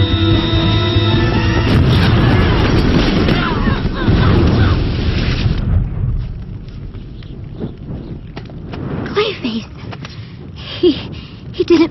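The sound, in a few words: building explosion in a Batman video game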